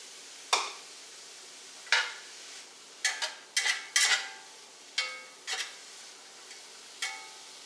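Chopped onion, green pepper and celery go into a hot pan, giving a run of bright, crisp crackles and spitting pops at irregular intervals, close and clear, with no talking.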